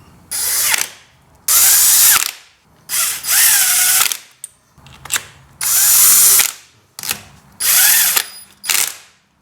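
A power tool, likely a drill or impact driver, runs in short loud bursts while fastening bolts on an Integra B20 engine during assembly, about seven whirring pulses with ratcheting clicks, close up and without talk.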